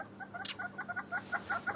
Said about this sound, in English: You hear the hornbills chirping away